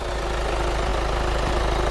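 Steady idle from a Kia Sportage R TLX, the engine humming low and constant at close range for a couple of seconds, with no one talking.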